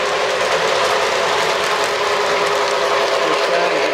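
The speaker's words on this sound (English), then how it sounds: "Sound of the engine, and as it goes fast, it's supposed to increase the sound" A model Santa Fe FT diesel locomotive on a layout runs with its simulated engine sound, a steady, close, loud mechanical hum and rolling rumble with no talking over it.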